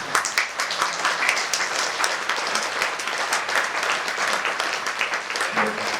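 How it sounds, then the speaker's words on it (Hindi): An audience at a spiritual gathering claps continuously, loud and close, with a busy crackle of many hands and some voices mixed into the steady applause. "ऐसे ताली बजाते रहना"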